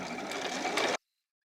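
A sewing machine stitches a blouse facing in one steady, fast, whirring run that lasts about a second and then cuts off abruptly into silence.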